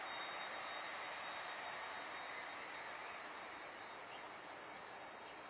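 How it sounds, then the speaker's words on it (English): An Air France airliner taxiing toward the end of the runway before takeoff, its jet engines a steady, faint, distant roar with a broad hiss that holds evenly throughout. "when taxiing up to the end of the runway, he's about to turn around and take off"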